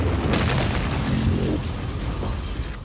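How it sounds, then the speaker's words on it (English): A massive explosion at a makeshift laboratory in Pasadena, California, a loud booming blast at the start followed by a rumbling decay that slowly fades over a few seconds. "Pasadena, California is rocked by a massive explosion."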